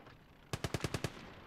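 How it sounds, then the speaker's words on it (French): A machine gun in the Gates of Hell video game fires a short, evenly spaced burst of six rounds, faint and somewhat distant, alone with no talk. "La mitrailleuse arrive."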